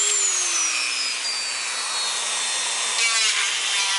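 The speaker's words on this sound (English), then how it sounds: "This is a Dremel 3000." A Dremel 3000 variable-speed rotary tool with a quick-lock collet whines steadily at high speed close by, its pitch sagging slightly as it cuts, with a brief rougher grinding patch near the end.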